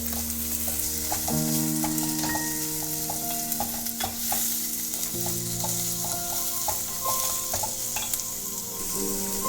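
Ginger, green chili, curry leaves and onion sauté in hot oil after mustard and fenugreek seeds have popped, for a Kerala-style curry. A loud, steady sizzle runs throughout with repeated stirring scrapes and clinks.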